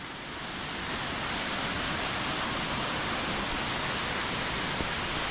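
Jogini waterfall near Manali roars as a continuous, loud broadband rush of falling water. It swells in over the first second, then holds steady, heard up close with no voices.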